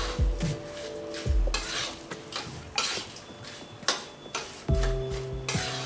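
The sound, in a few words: stirring ladoo mixture with nuts in a heavy kadhai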